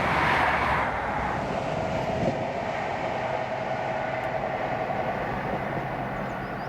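A ScotRail InterCity 125 set with class 43 power cars 43139 and 43129, running from Glasgow Queen Street to Inverness, passes Blackford station: a loud, steady rumbling roar of engines and wheels on rail that fades only slightly.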